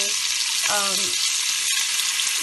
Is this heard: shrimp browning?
yes